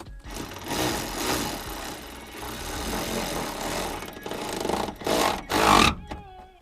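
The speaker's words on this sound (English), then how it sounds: "Now get your ratchet in." A ratchet tightens the bolts of an STI roof rail on a car, with rapid rhythmic clicking in close bursts that pause and resume, ending in a few sharper clicks.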